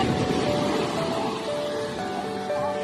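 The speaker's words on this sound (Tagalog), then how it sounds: "Oh, alon." Sea waves around a boat by the shore, a continuous broad washing surf roar that stays steady and fairly close, with faint voices in the background.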